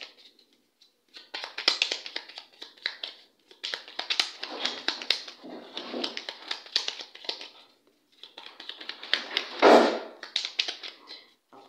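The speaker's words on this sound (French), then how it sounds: "Ne vous inquiétez pas si vous entendez du bruit depuis tout à l'heure, c'est juste un chat qui est en train de péter des plombs" A cat causing a commotion indoors, knocking and scattering objects in repeated bursts of clattering, rustling and tapping, some louder impacts near the end, with brief quiet gaps between flurries.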